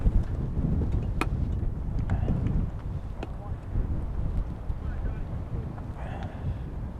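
Gusty wind buffets the microphone at a high school baseball field in East Longmeadow, a steady low rumble with a few sharp ticks and a voice speaking over it.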